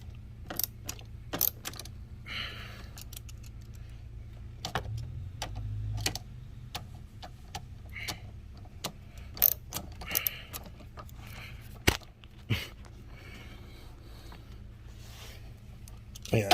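Ratcheting wrench tightens the battery terminal bolts on a Honda Pilot by hand, giving scattered close clicks and metallic ticks over a faint hum, with intermittent talk.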